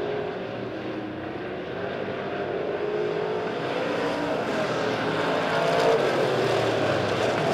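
Street stock race cars circling Springfield Raceway in a B-Main race, a continuous engine roar from the pack that grows slightly louder toward the end, with no talk over it.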